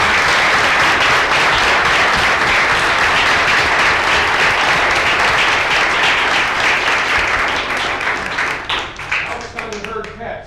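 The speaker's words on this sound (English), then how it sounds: "Let's clap." Audience at a city council meeting applauding Little League All-Stars, loud sustained clapping that fills the room and begins to thin out near the end.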